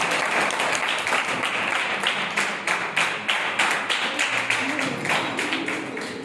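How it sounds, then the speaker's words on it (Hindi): Audience clapping at a medal ceremony, dense continuous applause from many hands throughout, close and fairly loud, with no clear voices over it. "तालियां बजाते जाइए सभी लोग।"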